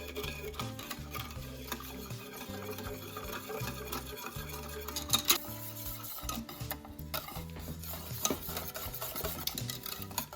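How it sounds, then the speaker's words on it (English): Whisking chocolate into a warm mixture over low heat on the stove, a continuous rhythmic scraping and stirring with tapping against the pan, under a low background hum. "Remove the lemon skin and add the chocolate. And now keep whisking."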